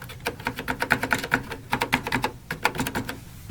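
Keys clack on a grimy TRS-80 Model 3 computer keyboard being tested for parts, a quick uneven run of close, sharp mechanical keypresses in short bursts with brief pauses.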